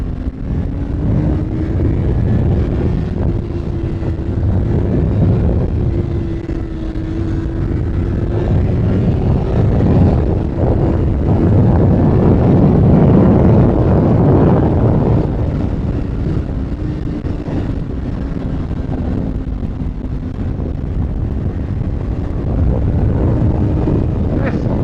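A 2019 Honda CBR650R motorcycle engine hums steadily while riding, a sustained drone that rises and falls gently with throttle, mixed with wind rush over the microphone.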